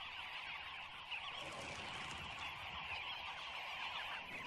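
A dense, busy chatter of dozens of birds calling and fluttering at once in the Kalahari, a constant bustling flock sound at moderate distance, with no single call standing out.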